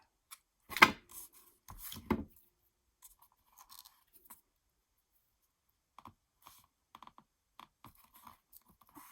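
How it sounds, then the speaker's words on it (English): Scissors snipping a craft embellishment for Valentine's hearts, a couple of sharp close cuts early on followed by faint, scattered small clicks and rustles in a quiet room. "Just going to snip the end of that."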